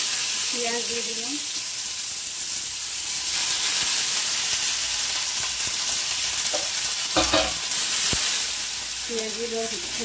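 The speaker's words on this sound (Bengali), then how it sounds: "পেঁয়াজগুলো একটু লাল লাল করে ভাজা হলে" Onions frying in oil in a pan, a loud continuous sizzle and hiss held close up, broken by a few sharper crackles and spoon scrapes, with no talking.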